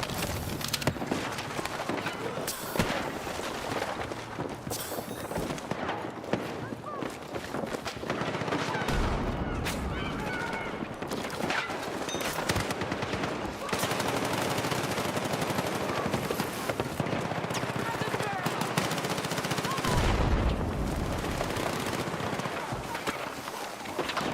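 SMG gunfire in the video game Battlefield 6 comes as repeated rapid bursts, loud and close, mixed with footsteps and battle noise and continuing throughout the clip.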